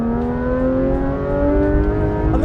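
A Porsche 992 GT3 RS engine drones steadily under load while driving, its rising harmonic tone climbing smoothly as the car accelerates, loud and close throughout.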